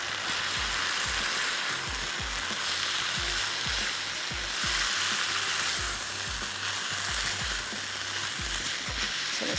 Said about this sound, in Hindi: सिर्फ अब हम इसको मिक्स करेंगे।